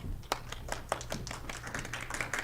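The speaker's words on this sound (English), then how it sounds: "Oh, y'all can clap better than that." A quiet audience at an evening inspirational gathering gives scattered, thin clapping, a few sharp hand claps standing out over a soft background.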